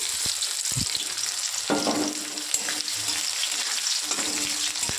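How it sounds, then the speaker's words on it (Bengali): Chopped onion fries lightly in a pot with whole garam masala, a steady close sizzle with a few stirring clacks and scrapes of the spoon, and no voices. "পেঁয়াজ কুচি দিয়ে একটু হালকা ভেজে নেব।"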